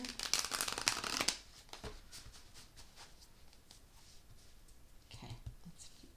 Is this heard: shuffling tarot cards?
yes